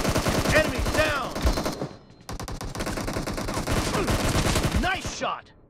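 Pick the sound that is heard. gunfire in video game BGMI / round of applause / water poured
gunfire in video game BGMI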